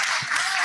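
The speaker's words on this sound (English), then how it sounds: "please give us a round of applause for the panelists" An audience applauds panelists at a fashion technology and sustainability panel, a short burst of steady clapping from a crowd.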